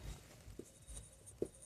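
Pen or chalk writing on a board during a maths lesson: faint, close scratching strokes with a couple of sharper taps, quiet, and with no speech over it.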